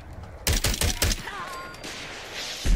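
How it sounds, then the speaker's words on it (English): Rapid bursts of gunfire and rocket blasts from combat in Fallout 4, a few sharp close shots in quick succession followed by a fainter whistling tail. "stop shooting me with rockets"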